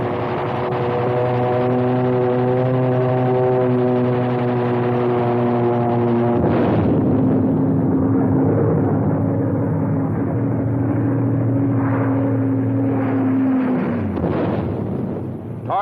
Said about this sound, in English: A flight of P-47 strafes targets on the highway.